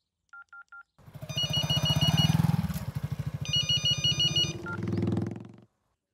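A few short electronic beeps, then a telephone rings with a warbling electronic tone over a low mechanical rumble.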